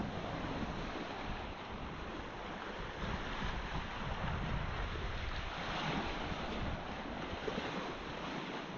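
Waves wash onto a beach on the Baltic Sea in a steady, roaring surge, heavily mixed with blustery wind buffeting the microphone, with no clear breaks between swells.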